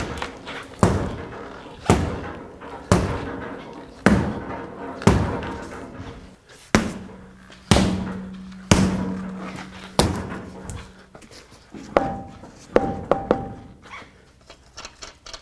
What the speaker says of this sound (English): use a rubber mallet and hit it from the backside.